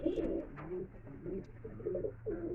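Kalpora Kaldom pigeons give soft, low repeated coos at a moderate distance, a few throaty calls spread across a quiet background.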